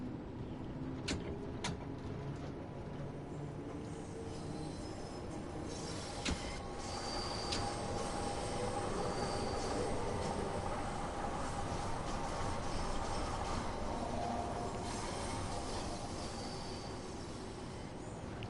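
London Underground train running between stations in the game Train Sim World 2, a steady rumbling roll with rail clatter and brief high squeals, continuous and close, with no talk.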